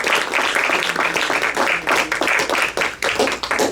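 A church congregation applauding, dense sustained clapping from many hands with slight rhythmic surges, loud and filling the space with no talk over it.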